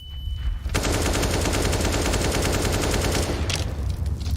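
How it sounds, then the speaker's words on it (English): Sustained automatic gunfire in Counter-Strike as a full magazine is emptied in a rapid, steady burst lasting about three seconds, loud and close, ending with a few trailing shots. "Full magazine spammed into the smoke"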